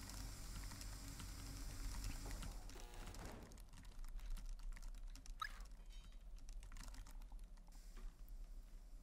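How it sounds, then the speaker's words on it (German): Busy typing on computer keyboards in a rescue dispatch headquarters game, a steady patter of rapid keystrokes, quiet and continuous over low room ambience, with no talking. "Es wird auch fleißig getippt."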